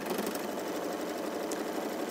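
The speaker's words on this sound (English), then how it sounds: "I'm going to sew around the top and both sides" A sewing machine runs continuously while stitching a quilt, a steady rapid mechanical whir with fine repetitive needle ticks, close and alone.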